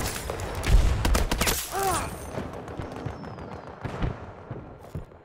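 Rapid bursts of gunfire in the video game Battlefield 2042, with sharp shots clustered early and sporadic reports after, at moderate distance, with brief voices in between.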